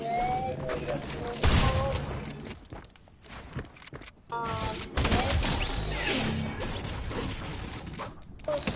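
Bursts of gunfire crackle through a Fortnite build battle, rapid volleys and sharp cracks with brief gaps and building clatter, with players talking over the shooting.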